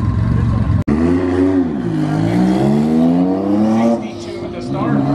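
Race cars, including a Porsche 996, accelerate down a drag strip at a TX2K event, loud engine roar rising and sliding in pitch through gear changes, with an announcer talking over it.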